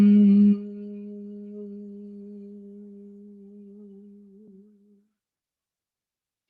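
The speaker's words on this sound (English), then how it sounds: "That is the sound of Om." A single sustained Om chanted by a voice in a yoga class, a steady low hum after a brief breath, held for about four and a half seconds and slowly fading to silence.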